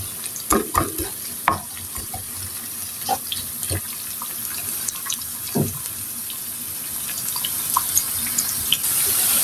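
Onion and ginger fry in a pan with a constant hissing sizzle, broken by repeated clanks and scrapes of a spatula that stirs them close by.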